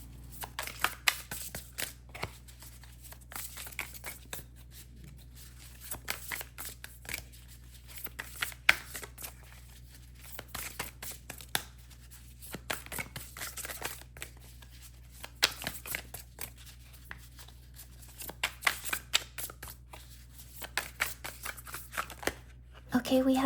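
Tarot cards are shuffled by hand in repeated bursts of quick riffling and soft slaps, close and fairly crisp, while a person talks quietly throughout.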